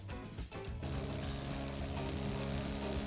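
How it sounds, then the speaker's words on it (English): A rough V12 exhaust on a GT car in the BeamNG driving game drones loud and steady, with a low, raspy, buzzing note after a brief dip at the start. "That is a fart cannon of an exhaust if I've ever heard one."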